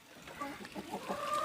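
Rooster clucking inside a chicken coop, a run of short close throaty clucks over about a second and a half with low coop background.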